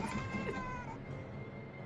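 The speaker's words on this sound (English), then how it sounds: "Shoo the cat away." A cat meows near an archive, one drawn-out tonal meow in the first second that fades off, followed by quiet room background.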